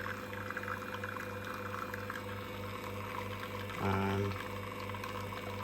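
Lelit Bianca espresso machine extracting a shot with the flow paddle fully open: a steady pump hum runs throughout, with a brief louder gurgling surge near the end, and a voice speaks one short word.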